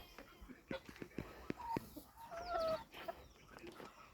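Hens, including a black hen, cluck in short, irregular bursts, with a few higher squawks mixed in, against a busy farmyard background.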